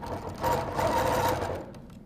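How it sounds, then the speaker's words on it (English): A domestic sewing machine quilting a meander takes a short burst of stitches, a steady mechanical whirr lasting about two seconds, close and moderately quiet with no talk. "Take a couple of stitches so I can trim off my excess."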